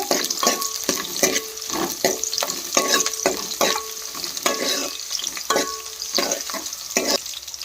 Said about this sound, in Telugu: అలాగనే ఆనియన్ పచ్చిమిర్చి కట్ చేసుకుని వేసుకుందాం. అలాగనే కలుపుకుందామండి.